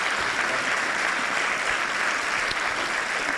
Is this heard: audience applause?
yes